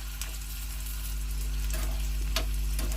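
Garlic cloves frying in a pan while being stirred, heard as a steady sizzle with a low hum beneath and a couple of brief scraping stirs late on.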